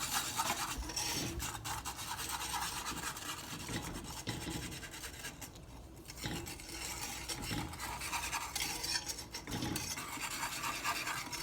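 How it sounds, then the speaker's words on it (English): A whisk scrapes steadily around a pot as milk is mixed into pudding mix, a continuous close rasping rub with an even rhythm and no talk. "We're going to turn on our heat as we slowly add the milk. And then we are going to use our whisk to mix it up."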